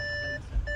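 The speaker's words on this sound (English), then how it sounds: "I'll just shut the door so it stops beeping at me." An Audi A6 Avant 2.0 S-line sounds a steady electronic door-open warning tone, clear and close, which cuts off briefly and then resumes amid low engine rumble.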